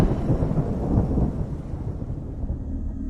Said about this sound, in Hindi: एक तेज बिजली की आवाज हुई